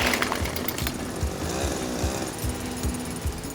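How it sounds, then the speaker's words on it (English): A diamond core drill grinds and rattles as it bores into rock, with a continuous harsh buzz and irregular knocking pulses close by. "This is a diamond core drill."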